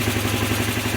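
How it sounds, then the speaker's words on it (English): A Honda CB250N Super motorcycle engine idles steadily after carburettor work, giving a close, even tick-over with a loud, constant rhythmic thrum. "that's been about 10 minutes now, and it's definitely the most stable tick over this bike's ever had."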